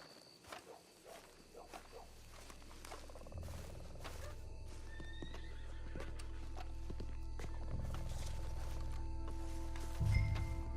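A horse whinnies and snorts amid clopping hooves and a low rumbling engine-like drone, with occasional clicks; no clear speech. From the video game Red Dead Redemption 2.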